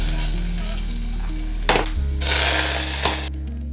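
Mustard seeds, garlic and ginger frying in hot coconut oil, a loud, close, continuous sizzle with crackling, stirring scrapes and a surge of hissing partway through.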